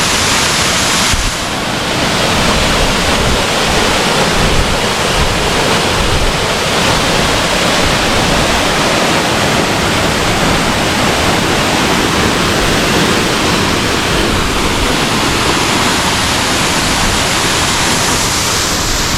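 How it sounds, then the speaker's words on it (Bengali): A roadside waterfall in the Arunachal Pradesh hills tumbles down a mountainside, its loud, dense rushing roar continuous and close, with no pauses. "পাহাড়ের গা বেয়ে সুন্দর ওয়াটারফলস নেমে এসছে।"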